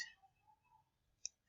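A single computer mouse click while drawing a floor plan in AutoCAD, one sharp faint tick standing alone over a quiet room with low hum.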